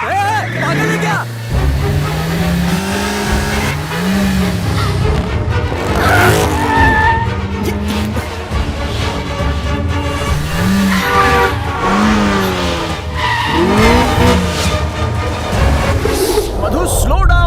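A car driven very fast with engine roaring and tires squealing in repeated skids, set under dramatic music and voices talking throughout.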